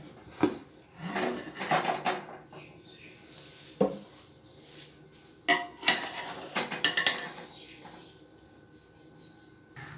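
The dum lid comes off a pot of beef yakhni pulao with scattered metallic clanks and clatter, a few sharp knocks of lid and utensils against the pot over a quiet kitchen background.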